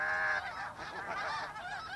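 Geese honk in a cluster, several overlapping nasal calls at moderate volume out in open country, with no talking.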